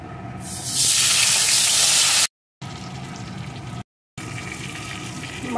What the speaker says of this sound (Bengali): এখন আমি ওই লবণ, হলুদ আর সর্ষের তেল মাখানো মাগুর মাছগুলোকে দিয়ে প্রথমে ভেজে নেব